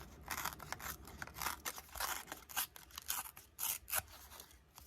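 Paper torn by hand for a handmade card, a series of short crisp rips and crackles in close succession, near and fairly quiet with no talking.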